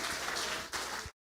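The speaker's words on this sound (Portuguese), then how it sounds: "Dê um aplauso a ele por isso." Audience applause during a sermon, a short burst of crowd clapping that breaks off abruptly into silence, with a brief sound returning at the very end.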